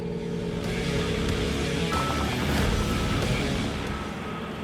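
A Case TV450B skid steer runs with its hydraulics cranked up to 4,000 PSI, giving a loud, steady engine and hydraulic drone that swells slightly midway and carries on with no talking.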